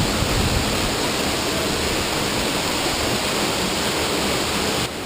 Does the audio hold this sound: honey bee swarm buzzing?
no